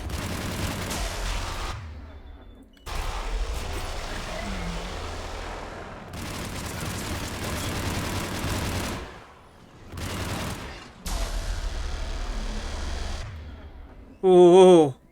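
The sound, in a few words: enemy gunfire in the video game Mass Effect Legendary Edition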